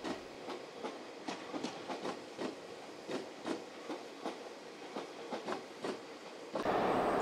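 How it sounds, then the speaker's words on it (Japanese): A Tokyu Den-en-toshi Line electric train departs the Nagatsuta depot toward Nagatsuta Station in early morning, with a steady series of rhythmic clicks and clacks from the wheels over rail joints, moderately distant, ending in a louder rushing noise. "早朝の電車の車両基地、東急田園都市線長津田の車両基地から長津田駅に向かって出発していくところです。"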